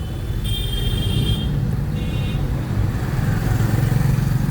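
Car engine revving and pulling steadily under acceleration during a driving lesson, a continuous low rumble with constant road noise and no talk.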